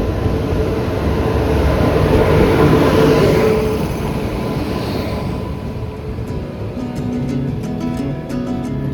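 Train pulling into a station platform, a broad rumbling roar that swells and then gradually settles, with light metallic clicks toward the end.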